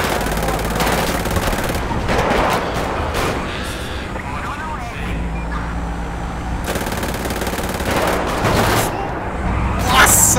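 Gunfire during a bank robbery shootout in the video game GTA V, with loud bursts of rapid shots and sharp cracks coming in clusters over a rumbling backdrop.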